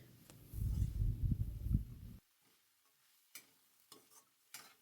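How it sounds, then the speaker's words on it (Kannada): A spoon stirs grated raw mango and coconut in a pan for mango rice, giving a loud, busy scraping and sizzle that stops abruptly, followed by a few faint scattered clinks. "ಕಾಯಿ ತುರಿನ ಹಾಕ್ಕೊಂಡ್ಮೇಲೆ ಇವಾಗ ನಾನು ಒಂದು ಸಲ ಮತ್ತೆ ಮಿಕ್ಸ್ ಮಾಡ್ಕೊಳ್ತೀನಿ"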